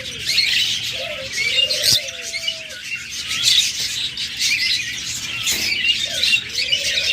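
Caged budgerigars, cockatiels and lovebirds at a bird sale chirp and call, with a steady bed of busy twittering and a few louder rising calls standing out, moderately near.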